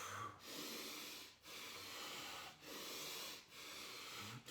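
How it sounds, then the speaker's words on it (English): A person does slow diaphragmatic breathing with the belly drawing in toward the spine, giving steady, soft airy breaths in a regular rhythm, each about a second long, close and alone. "So that's a proper breathing pattern"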